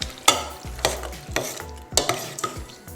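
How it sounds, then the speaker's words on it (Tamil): A spoon scrapes and stirs bread upma through a hot pan in repeated strokes, roughly every half second, with a light sizzle underneath; close and fairly loud, no voices. "நல்லா மிக்ஸ் பண்ணி விட்டுருங்க."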